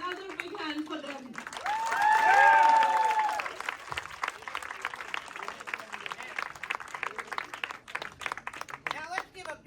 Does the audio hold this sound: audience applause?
yes